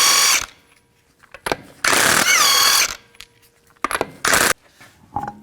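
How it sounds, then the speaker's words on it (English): Power tool with a 21mm socket removing lug nuts from a Nissan Maxima wheel, several loud bursts of impact whirring and hammering, one longer with rising pitch, separated by quiet gaps and small metallic clinks. "use a 21mm socket,"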